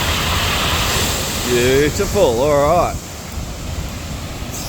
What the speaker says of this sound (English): There's lots of mist, spray and mist coming up